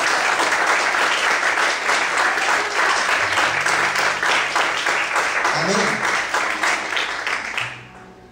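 A large church congregation bursts into sustained, loud applause that holds steady for several seconds before tapering off at the end.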